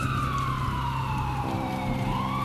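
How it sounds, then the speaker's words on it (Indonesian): An ambulance siren wails steadily at close range in an Indonesian radio drama set on a rainy night street, its tone sliding slowly downward under a droning vehicle rumble. "Suara sirine ambulans terdengar sangat jelas di telingaku, memecah kesunyian jalan."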